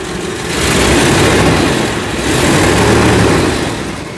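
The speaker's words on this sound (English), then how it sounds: "Even though we still have a little exhaust leak, this is much better than it was before." A Rolls-Royce engine idles close by with a rough, pulsing exhaust rumble from a small exhaust leak, steady and loud with slight swells in level.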